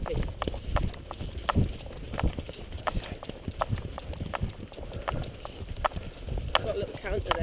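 A horse canters on moorland, its hoofbeats thudding in an uneven, repeating rhythm over wind noise, and a voice talks faintly at times.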